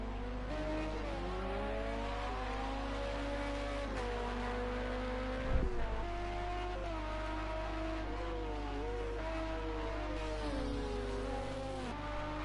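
LMP2 prototype race car engine in a racing video game, a continuous high whining drone with rising and falling revs through gear changes, alongside other cars, steady and loud with no talk.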